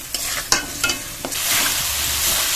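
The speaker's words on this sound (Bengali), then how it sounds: "দিয়ে আরও 2 মিনিট কষিয়ে নেব" Masala paste of tomato, green chili and ginger with turmeric and salt sizzles in a pan for a vegetarian potol posto dish, with sharp spoon scrapes and knocks over a steady close frying hiss.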